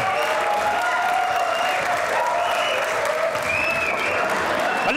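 Loud, steady audience applause at a comedy show's stage entry, dense and continuous throughout with light crowd noise and no talk over it.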